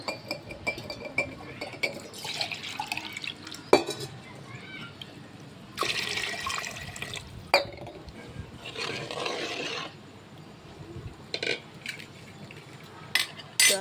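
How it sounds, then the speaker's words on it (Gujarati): Water is poured into a pot for spiced rice in two or three separate splashing bursts, alongside light clinks of utensils against the vessel in a quiet kitchen. "તો એમાં આપણે નાખી દઈશું પાણી."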